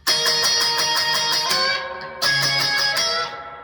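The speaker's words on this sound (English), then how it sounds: "If you were to play the intro with all downstrokes, it would sound like this." A guitar intro played with all downstrokes: a clear, loud string of even, bright chord hits on electric guitar, a short pause partway through, then the riff picks up again and rings out at the end.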